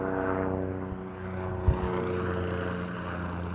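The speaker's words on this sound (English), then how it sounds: "That noise is the air ambulance." An air ambulance aircraft passes overhead, a steady propeller drone with low rotor-like hum holding throughout, moderately loud and continuous with a brief thump midway, no talking.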